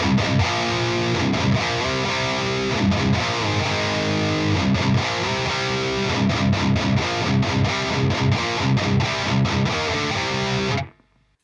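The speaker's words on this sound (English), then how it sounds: "So I bought the MXR modified, Badass modified overdrive, which sounds like this." Thick, driven electric guitar playing chords and riffs through an MXR Badass Modified Overdrive pedal, with a crunchy overdriven tone, steady and loud, then cutting off abruptly near the end.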